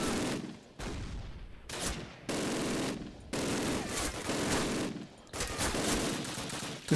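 Machine gun fire in Call of Duty 4 comes in loud, dense bursts of rapid shots, repeated several times with short pauses between volleys.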